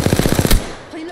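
Rapid burst of automatic gunfire in the battle royale shooter Apex Legends, a loud, evenly spaced string of about eight shots over half a second, then a quieter tail of game ambience.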